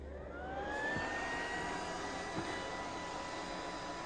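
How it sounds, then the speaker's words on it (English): An arcade machine's cooling fan whirs at high speed with a steady, rushing whine and a faint rising tone, continuous and fairly quiet, while running a game through a USB to JAMMA converter. "You can hear the fan going like crazy."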